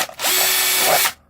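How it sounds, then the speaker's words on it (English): A power drill whirs in one short, loud burst of about a second, making holes in plastic solo cups, then stops. "I'm just going to make some holes."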